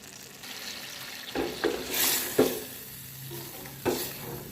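Coconut milk heats in a pan on a gas stove to make coconut oil, sizzling softly while a spoon stirs it in a few separate scraping bursts.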